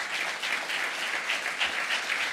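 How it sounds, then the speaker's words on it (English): An audience at an iOS developer conference applauds steadily for a couple of seconds, a dense even wash of clapping heard from within the hall. "Let's give an applause to Jane and show our solidarity."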